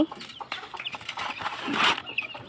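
Young chicks clucking and chirping close by during morning feeding, a busy cluster of short calls rising to a louder burst before fading.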